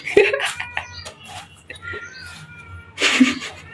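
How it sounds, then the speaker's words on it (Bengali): Cat-like crying meows come near and fairly loud, one at the very start and a longer, louder wail near the end, with faint scattered sounds in between. "পুরো বিড়ালের সাউন্ড।"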